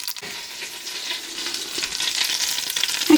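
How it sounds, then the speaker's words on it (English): Hot oil sizzles steadily in a frying pan as the base for a chilli, a dense crackling hiss that builds slightly louder toward the end, with no talking. "Ooh, look at that sizzle."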